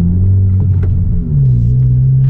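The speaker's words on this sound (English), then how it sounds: "Okay, so right now I'm gonna try it with rev hang on." 10th gen Honda Civic engine with rev hang on, a loud steady low droning hum that dips briefly and then settles at a slightly higher pitch, close and dominant with no talk.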